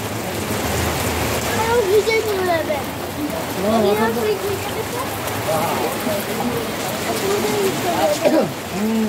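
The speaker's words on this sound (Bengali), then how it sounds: "কি করবো, জোর বৃষ্টি" Steady heavy rain hisses in the background at Bakkhali while people talk over it, the downpour continuous throughout.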